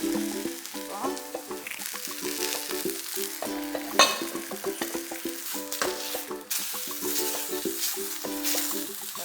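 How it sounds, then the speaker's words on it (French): Rice paste cooking in a pan after water is added, with a steady bubbling sizzle and repeated stirring scrapes throughout, fairly close and without any voices. "Alors, j'ajoute un peu d'eau."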